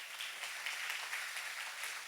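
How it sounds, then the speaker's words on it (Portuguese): Faint, distant applause from a church congregation, a steady patter of many hands clapping at low volume for a couple of seconds. "Pode aplaudir a Jesus."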